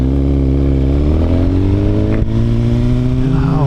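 A Suzuki GSX-R 1000 motorcycle engine revs while riding, a loud, close, steady drone that climbs in pitch, dips briefly and then rises again.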